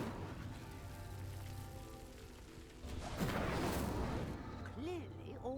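A fire spell is cast to light a pyre in Hogwarts Legacy, a rising whoosh and crackling burst swelling in the middle and fading, over a steady bed of ambient game sound and music.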